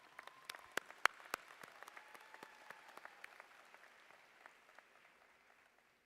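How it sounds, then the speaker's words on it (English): Scattered audience clapping at a law school hooding ceremony, a handful of sharp individual claps standing out over a soft, thinning wash of applause that fades away. "please clap for them"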